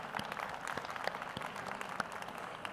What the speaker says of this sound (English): Oh, we should clap for that, yes.